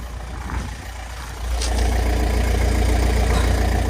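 A Volkswagen Touran engine idles with a steady low rumble, growing louder and fuller about halfway through and then holding evenly.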